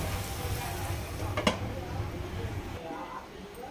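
Masala with sesame seeds sizzling and frying in a pan while a drumstick and cashew curry cooks, a steady close crackle with one sharp clink partway through, easing off toward the end.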